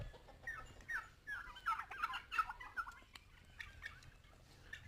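Turkeys on a poultry farm give a string of short warbling gobbles, faint and somewhat distant over a low background hum.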